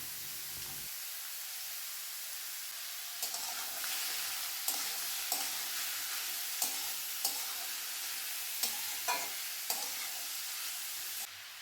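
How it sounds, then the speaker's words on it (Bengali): Chopped ash gourd hits a hot tempering in the pan with a sudden hiss, then a steady sizzle continues while a spoon scrapes and stirs in regular strokes. "ফোড়নটা একটু ভাজা ভাজা হলে আগে থেকে কেটে রাখা চাল কুমড়োটা দিয়ে দেবো।"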